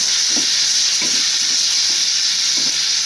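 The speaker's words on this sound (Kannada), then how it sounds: "ನಂತರ ಟೊಮೆಟೊ ಹಾಕ್ಕೊಳ್ತಾ ಇದ್ದೀನಿ ಟೊಮೆಟೊ ಚೆನ್ನಾಗಿ ಸ್ವಲ್ಪ ಸಾಫ್ಟ್ ಆಗೋವರೆಗೂ ಚೆನ್ನಾಗಿ ಬೇಯಿಸ್ಕೊಬೇಕು" Tomatoes fry and sizzle in a pan with onion and curry leaves, a steady bright hiss running throughout with a few soft stirring scrapes every second or so, close and alone.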